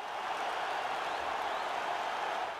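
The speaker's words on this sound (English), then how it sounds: "The crowd's going nuts." A virtual arena crowd in EA Sports UFC 4 cheers and claps as a steady, dense roar of applause. It stays fairly quiet and even for the whole stretch, with no voices standing out.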